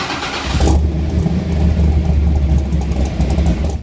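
A V8 car engine cranks and fires, then roars loudly and steadily up close before cutting off abruptly, with no voices.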